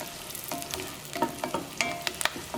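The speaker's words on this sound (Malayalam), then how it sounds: "അപ്പോൾ സവോളയൊക്കെ മുരിഞ്ഞ് തുടങ്ങിയിട്ടുണ്ട്." Sliced onions frying in hot oil with a pinch of fenugreek seeds for a garlic red chilli curry: a steady close sizzle broken by sharp crackles and stirring scrapes, with no voices.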